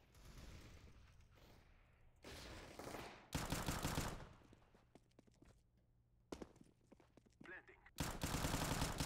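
Pistol fire shot through a box in a tactical shooter game, several loud bursts of rapid gunshots separated by quieter stretches with footsteps, a voice talking faintly underneath.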